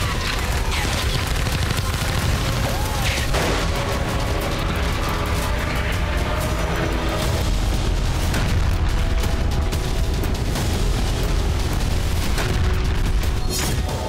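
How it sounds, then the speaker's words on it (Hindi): Rocket and missile explosions from Hezbollah strikes on Israeli cities, a dense, continuous rumble of booms and crackling blasts lasting the whole stretch, loud and chaotic with no clear pauses. "इसराइल के शहर शहर पर हिजबुल्ला के रॉकेट गिर रहे हैं।"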